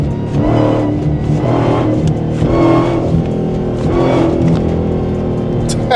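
A loud, deep Dodge Challenger SRT Demon 170 V8 engine of about 1,025 horsepower roars and revs hard, surging repeatedly as the car accelerates close by.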